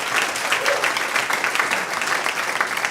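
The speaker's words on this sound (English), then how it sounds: "So let's give a big round of applause for her." Steady applause from a crowd at an event, a dense wash of clapping hands that holds at an even level throughout.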